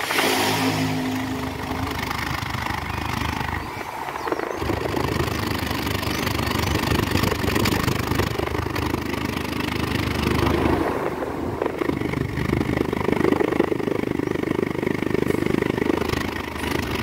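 A Nissan Versa 1.6 16V engine runs steadily with a slight misfire, heard up close as a continuous mid-pitched hum with uneven, faltering pulses and brief dips in level, no voices.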